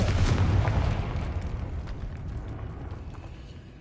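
Confringo spell explosion in a Harry Potter video game: a loud, deep booming blast that hits at once and then rolls away in a long, fading rumble, with no talk over it.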